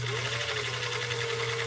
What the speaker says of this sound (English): So I'm going to do that next decorative stitch now from Cam A, position 3.